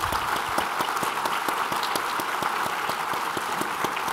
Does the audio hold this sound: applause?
yes